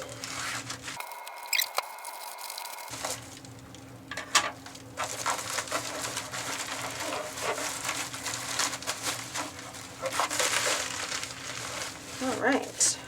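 Scissors cut open a package indoors, with crinkling plastic and paper, snipping and rustling handling noises that come in close, irregular bursts, with no talk.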